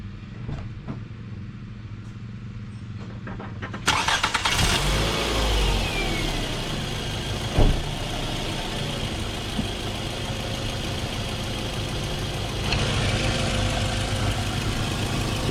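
A Scion xB fitted with a Weapon R header and S-pipe cranks over and fires up, then settles into a loud, steady idle with a brief revving swell, heard close with no talking.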